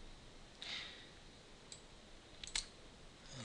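Quiet, close computer mouse clicks while selecting a file, a few short dry ticks spaced unevenly, the last two coming close together, alone over a faint hiss.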